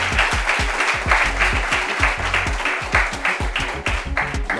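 Applause from an audience at a community meeting welcoming a guest, dense steady clapping with rhythmic low thumps running under it, loud and continuous throughout.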